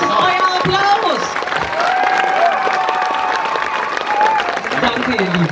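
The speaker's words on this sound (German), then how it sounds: "Das ist euer Applaus." An audience at an open house claps steadily for Moulin Rouge musical performers. Voices and a few whoops carry over the broad, continuous applause.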